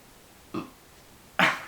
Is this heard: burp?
yes